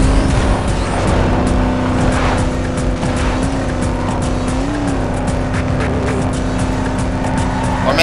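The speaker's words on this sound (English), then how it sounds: "I'm gonna lose this race because this freaking car wanted to slide a lot." A race car in Need for Speed Most Wanted (2005) slides along with a steady engine drone and continuous tire squeal, loud and sustained for several seconds.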